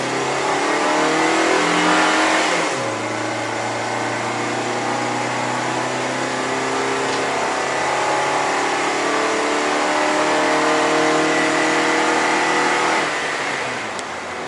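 A Toyota TownAce van's engine pulls hard under acceleration while driving, a steady loud drone whose pitch climbs through a gear, drops at a shift, then rises again before easing off; no one speaks.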